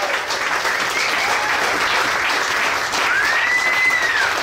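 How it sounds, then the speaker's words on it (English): Steady applause from a crowd at a Medicine Wheel Productions event at Taj Boston, honouring the 2016 Medicine Man. The clapping stays dense and even throughout, with a thin whistle rising over it near the end. "Round of applause to Medicine Man 2016, Michael Dowling"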